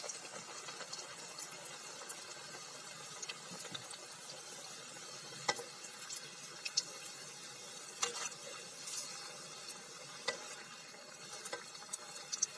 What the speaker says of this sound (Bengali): এখন চলেন সবগুলো বানানো শেষ, ভেজে নেব। রোলগুলো ভেজে নেব।